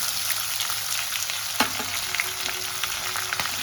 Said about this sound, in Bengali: আমি কুচনো পেঁয়াজটাকে হাত দিয়ে এইভাবে করে নিলাম, নিয়ে তেলের মধ্যে দিয়ে দিলাম।